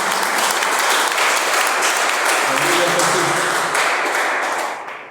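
A church congregation bursts into loud, sustained applause, dense clapping from many hands filling the room before tapering off at the end.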